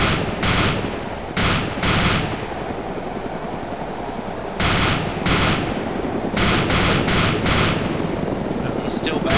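Gunshots in the DayZ Epoch game fire in short, loud bursts and clusters over the constant drone of a helicopter or plane engine, with gaps between the volleys.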